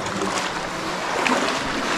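Deep, fast water rushing through a river cave, a loud continuous broadband roar and churn filling the space without pause.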